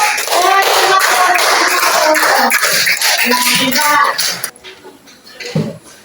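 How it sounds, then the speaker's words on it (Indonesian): Audience clapping hands during a lively religious lesson, dense steady applause filling the room for about four seconds before dropping off abruptly, followed by a few faint scattered sounds and brief murmurs. "tepuk tangan dulu untuk"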